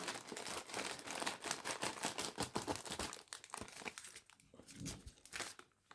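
Close crinkling and tearing of plastic packaging as a pilot watch package is cut open with scissors, a rapid series of sharp rustles and crunches that thin out toward the end, no voices.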